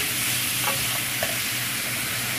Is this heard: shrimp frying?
yes